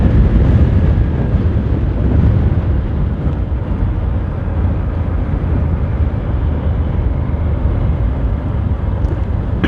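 Wind roars and buffets against the microphone of a moving motorbike, a loud, continuous rushing noise with no speech.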